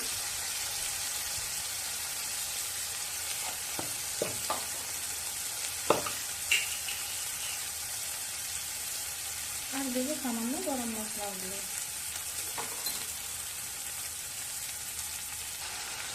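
Turmeric, cumin and red chili powder fry in oil in a pan, giving a steady close sizzle with a few scraping stirs and a short burst of voice partway through.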